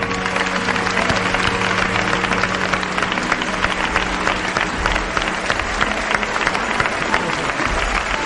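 A live theater audience claps loudly and continuously for the technical crew, a thick, even roar of applause with a faint steady hum underneath.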